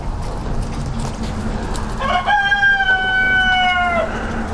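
A rooster crows once, loud and close, a long drawn-out call rising and then trailing off over steady background hum.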